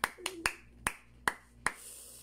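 A few people in a church congregation clap during praise, six sharp, separate claps landing at uneven intervals and standing out clearly against a quiet room.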